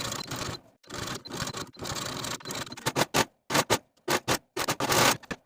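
A serger finishes fabric seams in stop-start bursts of busy machine whirring, some long runs and some short, separated by brief pauses.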